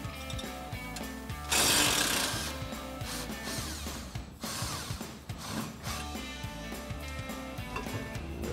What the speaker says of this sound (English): remove our mounting bolt using our 15mm socket on our impact and an 18mm wrench for the bottom